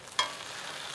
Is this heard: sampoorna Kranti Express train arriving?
no